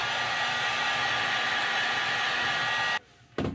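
A heat gun blows a steady, loud, close rushing hiss to heat-set paint on a custom-painted glide bait, then cuts off abruptly near the end before briefly kicking back on.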